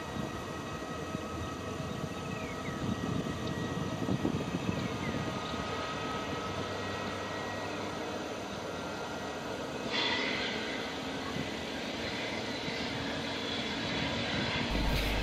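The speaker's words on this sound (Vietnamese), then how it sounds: "đó chính là cái âm thanh mà khởi động động cơ" A steady roar of airliner jet engines at Can Tho International Airport fills the scene, with a rising whine and a sudden surge partway through as an engine spools up.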